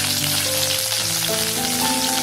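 Dried red chillies, a sprig of curry leaves and fenugreek seeds sizzle in hot oil for okra curd curry, giving a steady, dense hiss with a faint tonal hum underneath.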